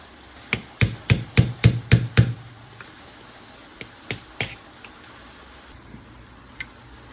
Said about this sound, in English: smack the head with a hammer.